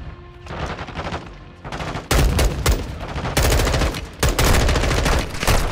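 Rapid automatic gunfire in the video game Modern Warfare II, loud, dense bursts and a sustained fusillade with short pauses between volleys, with no talking.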